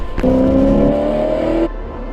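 A car engine roars up close with a sustained whirring tone, holding steady for over a second before cutting off abruptly.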